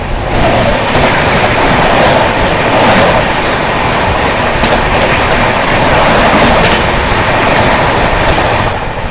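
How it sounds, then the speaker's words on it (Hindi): The Hazrat Nizamuddin–Thiruvananthapuram Rajdhani Express passes close by, its wheels clattering loudly over rail joints in a continuous rush with rhythmic clicks throughout. "सामने से आ रही है इंडियाज लॉन्गेस्ट रनिंग राजधानी एक्सप्रेस हजरत निजामुद्दीन तिरुवनंतपुरम त्रिवेंद्रम राजधानी"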